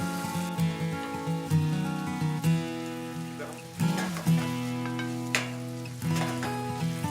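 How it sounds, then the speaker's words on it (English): Ground beef browns in a hot pan with a steady, close sizzle and crackle, punctuated by the scrape and clatter of stirring, while a pot of water heats nearby. "So right now we're browning the meat"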